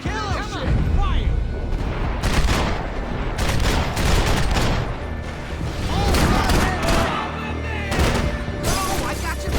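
Rapid gunfire rattles through a chaotic Max Payne 3 firefight, with overlapping bursts and booming shots close and loud, while characters shout over the shooting.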